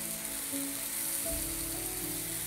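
Soft, constant sizzle of vegetables sautéing in a pan with chili powder for an omelette, with a low hum underneath.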